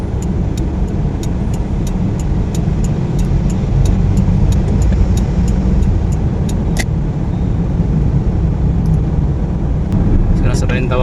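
Dense road traffic on EDSA at Balintawak, with jeepneys and other motor vehicles idling and creeping in a steady, loud rumble, occasional faint ticks and horn-like tones, and talk over it.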